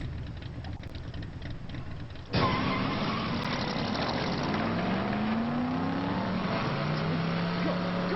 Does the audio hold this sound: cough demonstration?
no